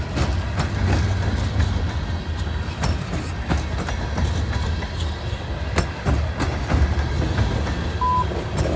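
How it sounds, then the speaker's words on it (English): A loaded freight grain train rolls past in heavy snow, a loud continuous rumble of cars with rhythmic clickety-clack wheel beats and a brief faint beep partway through. "Grain train."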